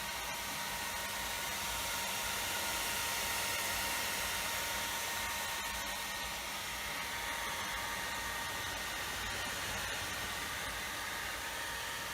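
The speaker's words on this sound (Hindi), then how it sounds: "आप सुन पाएंगे कि इसका जो कूलिंग सिस्टम है, इसका जो फैन है, ये चालू हो जाता है और एयर इनटेक शुरू हो जाता है" Cooling fan running on a Suzuki Gixxer 250 motorcycle engine, a steady broadband whooshing hiss with a faint whine, close and unbroken throughout.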